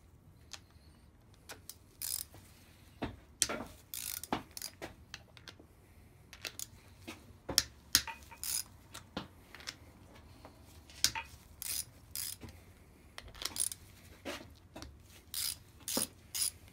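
A ratchet loosens the rocker assembly nuts on a Classic Mini engine during cylinder head removal, giving sharp, close metallic clicks in irregular bursts of several strokes, spread across a quiet workshop background.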